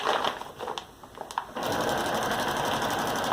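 A sewing machine stitches a feed bag into a tote, starting with a few uneven bursts and then settling into a steady, close, continuous run of rapid stitching.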